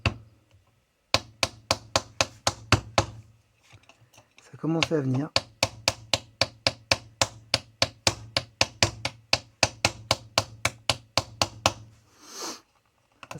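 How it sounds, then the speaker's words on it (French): Sharp hammer taps strike Lambretta 125 LD engine parts near the pinion in a steady run of about forty close, crisp blows, pausing briefly while someone speaks. "petit coup de marteau."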